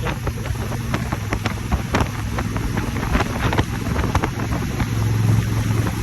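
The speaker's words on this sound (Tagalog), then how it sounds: "Medyo malakas yung hangin." Strong wind buffets the microphone while a motorcycle rides along the Cebu-Cordova Link Expressway, a continuous loud roar with low engine rumble underneath.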